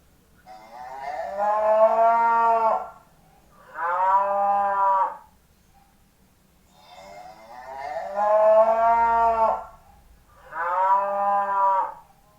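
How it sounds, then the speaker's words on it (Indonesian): A cow moos four times, long drawn-out lows separated by short pauses, loud and close with no other sound. "itulah tadi suara sapi"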